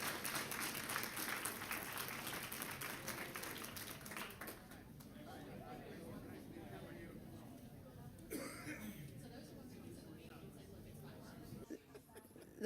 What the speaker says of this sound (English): This will give them all another round of applause.